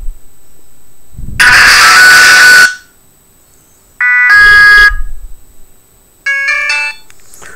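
A Mini Fashion mobile phone ringtone plays in three separate bursts with short gaps between them: first a loud buzzy tone, then two brighter melodic chimes, with no talking.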